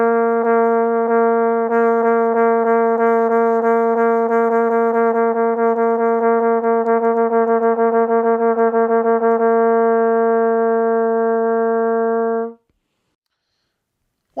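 A trumpet plays one sustained pitch articulated into a fast, even stream of softly tongued repeated notes with no gaps, ending abruptly after about twelve seconds.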